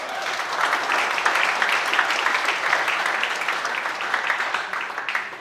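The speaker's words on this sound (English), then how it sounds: "Another round of applause for them." Loud, sustained applause from an audience at a baseball and music event at an American Legion, a dense, even roar of many hands clapping for over five seconds, tapering slightly at the end.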